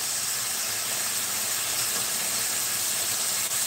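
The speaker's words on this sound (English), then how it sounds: "I'm just gonna let the bok choy cook" Bok choy with fresh ginger sizzles in a hot pan as it wilts, making a loud, steady, unbroken hiss that fills the whole stretch with no talking.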